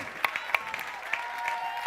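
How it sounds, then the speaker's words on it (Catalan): Applause for Aleix Cabarroques at a Catalan stand-up monologue contest final, a brief patter of scattered claps with a few sharper hits standing out, fairly distant and thin. "un fort aplaudiment per l'Aleix Cabarroques"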